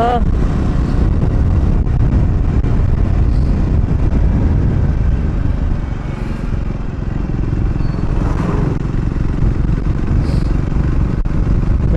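A motorcycle carrying riders with mats and bags on the back rumbles steadily at close range, its loud engine drone and wind buffeting continuous throughout, with voices mixed into the noise.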